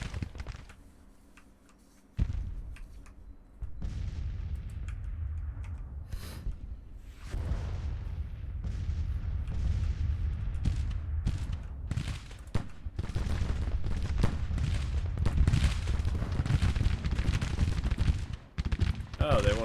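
Musket volleys and artillery fire in Grand Tactician: The Civil War, during a large Cold Harbor battle. A dense, continuous crackle of rifle fire rolls on with deep booms mixed in, loud and sustained after a quieter start.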